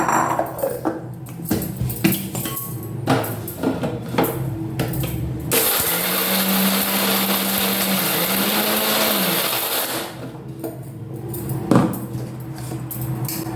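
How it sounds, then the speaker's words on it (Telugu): A kitchen mixer grinds cashews, almonds and melon seeds, a loud steady whirring roar lasting several seconds with its pitch shifting, framed by clattering and handling of the jar before and after. "ఇప్పుడేమో చూడండి జీడిపప్పు, బాదం, పుచ్చగింజలు ఇవి కొట్టుకొని అన్నీ ఒకటిగా కలుపుకుంటాను"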